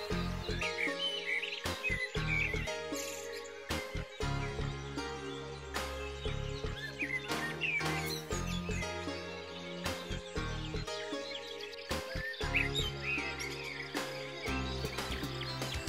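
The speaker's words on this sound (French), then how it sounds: "Retrouvons nos choucas des tours." Western jackdaws calling, a dense run of bird chirps and calls repeating throughout over a steady, busy background with sharp broadband clicks and knocks.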